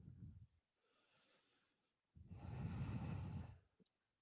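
Slow yoga heart-breathing exercise: a short exhale, then a soft drawn-out inhale, then a fuller, louder breath lasting over a second, all close and quiet with no talk.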